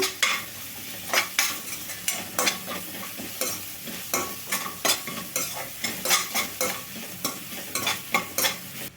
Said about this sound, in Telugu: అల్లం వెల్లుల్లి పేస్ట్ కూడా పచ్చివాసన పోయిన దాకైతే వేగాలి